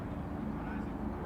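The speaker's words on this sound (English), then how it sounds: "Helicopter overhead in the 0-1." A helicopter flies over a high school baseball game, producing a steady, low, broad rumble that runs throughout beneath a talking voice.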